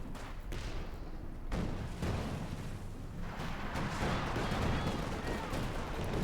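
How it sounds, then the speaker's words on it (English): Katyusha rocket barrage in the Company of Heroes 2 video game, a dense, continuous roar of launches and explosions rumbling loudly and unbroken for several seconds, with a voice talking underneath. "And there go Katyusha barrage running down there outside of Prabuty's base."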